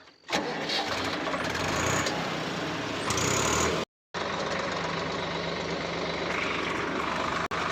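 Close, loud and continuous, a Swaraj 855FE tractor's diesel engine runs in neutral at dusk, with one sharp cut in the sound partway through.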